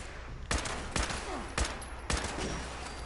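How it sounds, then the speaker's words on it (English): Four gunshots in Fallout 76, evenly spaced about half a second apart, loud and sharp with a short echoing tail, over a steady game background and no talk. "It took me 3 shots, but I shot 4."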